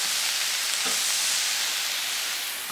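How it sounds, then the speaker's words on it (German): Savoy cabbage in cream sauce boiling over in a pot, a steady frothy hiss and bubbling sizzle that fades slightly toward the end, close and continuous with no voices. "Das kocht schon wieder hoch."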